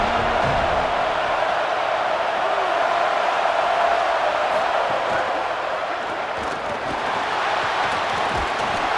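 A stadium crowd roars steadily through a third-down red zone play in EA Sports College Football, a dense, loud wash of cheering that holds throughout.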